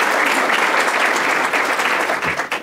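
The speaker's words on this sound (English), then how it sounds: "let's give him a round of applause" Audience applause at a City Club of Chicago speech, a dense steady burst of many hands clapping close by, fading slightly at the end.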